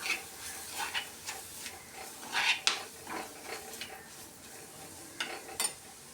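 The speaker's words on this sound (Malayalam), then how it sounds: "ഈ പൊടികൾ ഇനി ഇതിൽ കിടന്ന് നല്ലവണ്ണം മൊരിയിച്ചെടുക്കണം നല്ലപോലെ ഇളക്കി" Spice powders frying in a pan as a spoon stirs them, with a soft sizzle and quiet intermittent scraping and clinks of metal on the pan.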